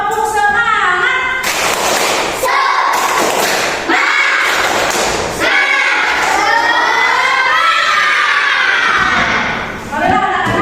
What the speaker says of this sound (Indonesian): Ayo kita tepuk semangat dulu. Tepuk semangat.